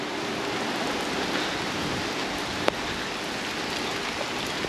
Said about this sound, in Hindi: एकदम से अचानक बारिश जो है वो शुरू हो गई है